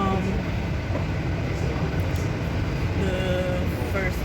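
Steady low rumble and rolling hum fill the interior of a moving passenger train, continuous and moderately loud, with faint higher squeals now and then and a voice speaking briefly over the noise.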